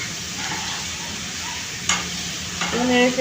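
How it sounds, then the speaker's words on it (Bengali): Papaya pieces sizzle gently as they are stirred while frying in a pan with turmeric, with a soft scrape of the spoon and a faint clink near the end. "মিশিয়ে দিচ্ছি সবগুলো"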